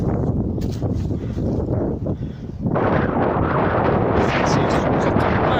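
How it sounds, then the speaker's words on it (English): Strong wind buffeting a microphone outdoors, deep rumbling gusts that ease briefly then surge back louder and sustained, close and heavy. "The wind just hits us again."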